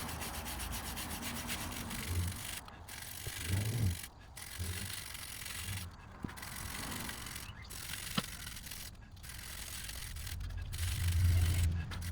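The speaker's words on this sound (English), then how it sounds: "The wire brush is removing most of it, but there's also rust on the inner wall which isn't coming off as easily." A wire brush scrubs rust off a car wheel in repeated rasping strokes with short pauses between them, close and steady, with no talking.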